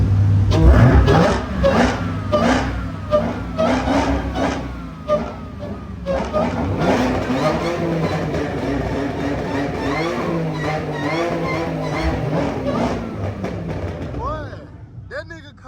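Supercharged Audi and Dodge Hellcat cars accelerate in a suburban street, engines revving and rising in pitch with a whining tone, loud and sustained, while people talk over it.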